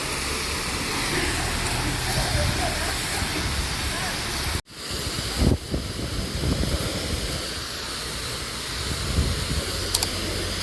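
Pressurised water spraying over a vehicle parked on a wash ramp, a continuous loud hiss broken by one brief cutoff near the middle before the spray resumes, with talking heard in the background.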